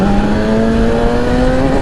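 A Yamaha R6 and a 2001 Aprilia 1000 motorcycle rev hard on a road at a bridge, a loud steady engine drone whose pitch rises gradually over two seconds, close and continuous with no talk.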